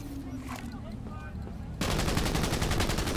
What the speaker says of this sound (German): Diesmal nehme ich gleich meine Pistole.